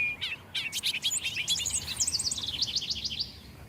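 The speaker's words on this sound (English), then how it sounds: "Hearing a lot of birds right now." Many birds chirp and twitter outdoors in quick overlapping bursts, bright and fairly close, over a low steady background rumble, in the hedgerows and hayfields of Deerfield, Massachusetts.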